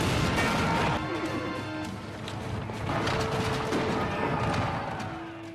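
A dense, loud battle din of crashes and bursts of gunfire evokes Cromwell's cavalry smashing into the Royalist right flank during the English Civil War, a continuous clamor with no clear voices.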